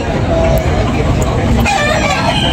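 A rooster crows amid a busy outdoor gamefowl market in Tabunok, Talisay, Cebu, its call rising over constant crowd babble and vendors talking nearby.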